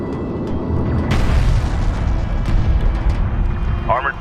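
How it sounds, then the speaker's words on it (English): An armored vehicle is destroyed in the real-time strategy game Homeworld: Deserts of Kharak, a heavy booming blast over a dense, continuous rumble of battle noise that stays loud throughout. "Armored vehicle has been destroyed"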